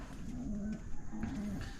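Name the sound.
pigeons cooing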